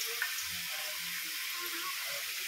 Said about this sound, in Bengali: এখন আমি মাছের সবজিগুলো কেটে ভাজা করে নেব।